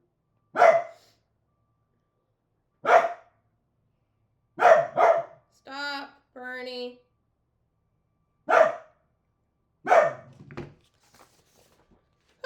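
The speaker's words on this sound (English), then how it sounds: "Oh, the dog's gonna freak out." A dog barks in sharp single and double bursts spaced across the scene, with a voice calling out between barks and electronic beeping tones in the middle.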